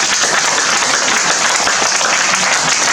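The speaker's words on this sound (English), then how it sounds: "I want us to give a round of applause to the Vice President." Loud, dense applause from an audience at a Group of 77 gathering honouring the Vice President, a continuous close wash of clapping for about three seconds with no talk.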